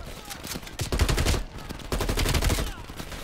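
Rapid automatic gunfire from a firearm in the shooter game Call of Duty: Black Ops Cold War, two dense bursts of repeated shots separated by a brief pause, loud and close.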